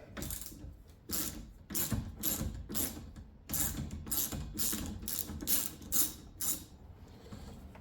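A 15mm ratcheting wrench loosens the wiper arm nuts on a Jeep JL: rapid, close ratchet clicks in repeated short strokes, steady and rhythmic, with no talking.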